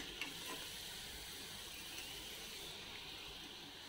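Urad vadas made from premix deep-fry in hot oil, giving a quiet, even sizzle that hisses without a break and without any voices.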